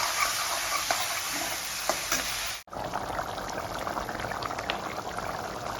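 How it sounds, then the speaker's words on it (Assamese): Curry with fried tomatoes and their juice bubbles steadily in a pot on the stove, a close, continuous hissing boil with a brief dropout partway through and no talking. "মোৰ তৰকাৰীখিনি উতলি আছে।"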